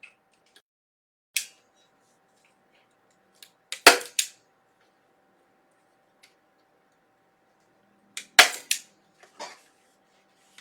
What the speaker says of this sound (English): So I'm just stapling a few spots here and there where there's no lights